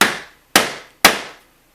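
Three sharp, evenly spaced hammer taps on a metal tack puller wedged under a nail in an antique trunk, each a crisp close strike with a short ringing decay.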